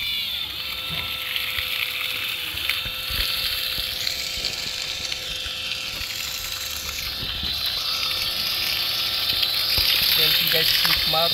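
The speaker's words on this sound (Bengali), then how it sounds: "এটা কিন্তু মারাত্মক স্পিডে পানি গিয়ে পড়তেছে" Water gushes from a repaired 775 metal pump, a steady broadband hissing rush that runs the whole time, with a voice talking over it.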